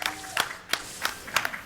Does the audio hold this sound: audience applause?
yes